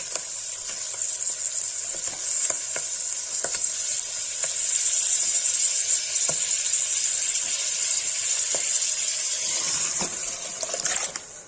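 Paneer hitting sautéed saag in a hot pan for Kashmiri-style haakh, giving a loud continuous sizzle with steamy hiss and a few stirring clicks, close up and with no talking.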